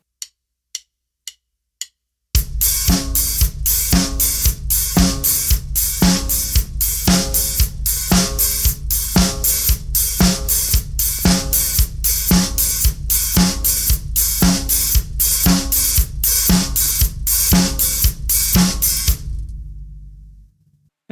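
A drum kit plays a disco groove, with a steady sixteenth-note hi-hat pattern over a four-on-the-floor kick and snare, after four count-in clicks, looping evenly and loud before stopping abruptly.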